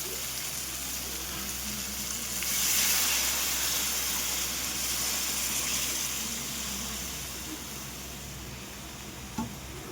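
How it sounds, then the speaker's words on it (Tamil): Tamarind water poured into a simmering curry in a pan: a steady, hissing sizzle and bubbling wash that swells for a few seconds, then settles back to a constant simmer, with no talking. "இப்போ வந்து புளி கரைச்சலை நம்ம ஊற்றிடலாம்."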